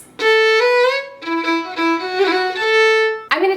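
Fiddle tune dressed with slides, grace notes and rolls, bowed loud and close, with notes sliding into pitch and quick flicks between sustained tones, ending in a brief sharp bowed attack.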